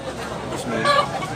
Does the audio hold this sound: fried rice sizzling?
no